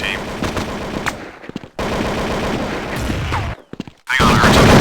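Rapid automatic gunfire from Counter-Strike rattles in dense, loud bursts, broken by brief silent gaps and a few single shots before another heavy volley resumes.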